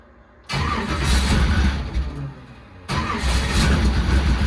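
A Shelby Ford Mustang engine cranks and fires up in cold weather, roaring loud and close, then settles into a rough, throaty idle before a second burst of revving.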